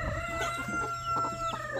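A broody hen in a backyard coop gives a few short, close clucking calls in quick succession, with no talk.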